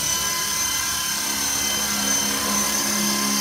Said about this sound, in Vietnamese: Các bạn lưu ý là máy bay khi cất cánh thì nó sẽ có xu hướng đảo nha.